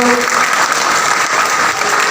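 Audience clapping at a comic religious discourse during the Yallalinga cradle ceremony, a dense, steady burst of applause from many hands that fills the room without pause.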